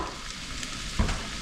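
Chunks of stew meat browning in a pot during a winter power outage, a steady close sizzle with one brief clunk near the middle, no voices.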